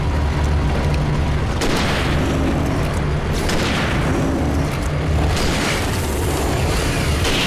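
Flashbang explosion in the video game Alan Wake Remastered, a loud booming burst that rings out over a dense rumbling game mix, followed by further heavy blasts.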